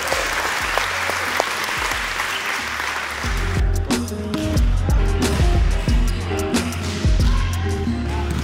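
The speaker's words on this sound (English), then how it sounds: "let's give the coach another round of applause" A group at an adult volleyball camp claps for the coach, dense applause at first that thins into scattered claps mixed with ball bounces and movement in the gym.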